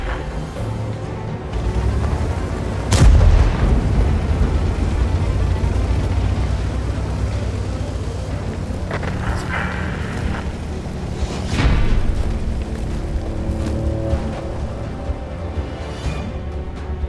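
Heavy tank cannon fire in World of Tanks, a loud booming shot near the start followed by further blasts and rumbling battle noise, with another strong report midway.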